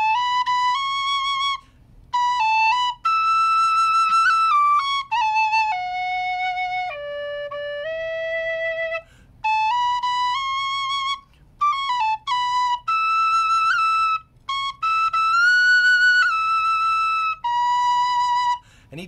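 D tin whistle playing a melody from Titanic, clear pure notes in phrases with short breaks between them, close and unaccompanied.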